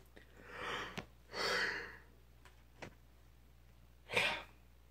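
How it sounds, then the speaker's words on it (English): A long, breathy human yawn swells and fades near the start, followed by a few short breaths and a sharp inhale near the end, all close and alone in a quiet room. "That yawn kicked the crap out of me."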